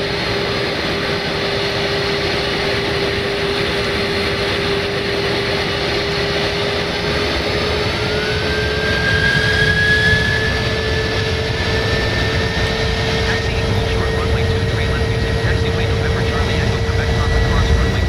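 Airplane jet engine thrust in the Microsoft Flight Simulator video game: a steady, loud engine roar with a rising whine partway through that holds to the end, continuous and close.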